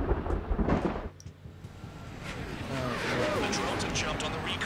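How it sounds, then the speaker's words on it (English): Thunder and storm effects from the Ace Combat 7 flight combat game: a deep low rumble with a sharp crack early on, then a sustained rolling roar mixed with engine noise over the rest of the clip. "lightning effects."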